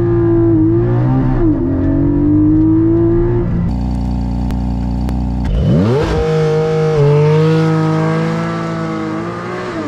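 A Porsche in sport mode is held on the brake and given full throttle. Its engine roars loudly and close, with rising revs, a sharp shift and another climb through the gears, heard alone without talk.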